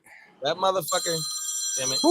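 An old-school telephone rings with a bright, steady electronic trill that runs under loud, excited talking.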